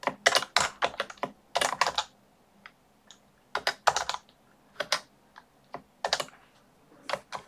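Quick bursts of typing on a computer keyboard, close and crisp, in irregular clusters of clicks separated by short quiet gaps.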